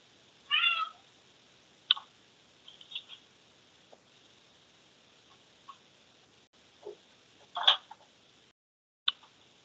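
A house cat meows at a door, a few short calls spread through the clip amid quiet room tone and faint small clicks.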